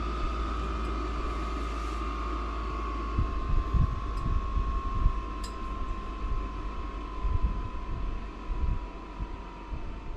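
A Vevor 8 kW 12 V diesel heater revs during shutdown, its fan giving a steady whirring drone with a sustained tonal whine. Uneven low thumps sit underneath, with a few faint ticks above.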